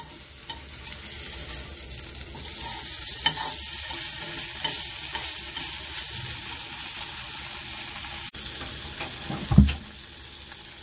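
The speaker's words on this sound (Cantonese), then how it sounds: "咁樣咧，我哋要煎一煎嗰個鹹魚佢" Salted fish fries in a pan with a steady, close sizzle, broken by occasional stirring scrapes and a short louder clatter near the end.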